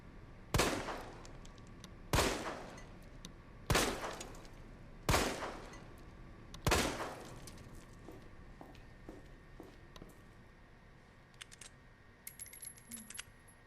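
Handgun in the Resident Evil 2 Remake firing slowly: five sharp, loud shots spaced about a second and a half apart, each with a short decaying tail, followed by quieter scattered clicks and clatter.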